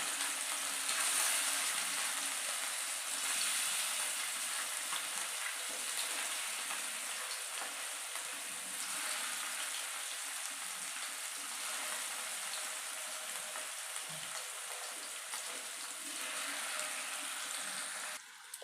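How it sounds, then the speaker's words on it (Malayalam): Mackerel and sardines fry in oil in a pan for a Kerala lunch, giving a continuous, even hiss and crackle that carries on steadily for the whole stretch with no talking over it. "അപ്പോൾ അതാ മീൻ വറുക്കാനുള്ള ഇട്ട് കൊടുത്തിട്ടുണ്ട് കേട്ടോ."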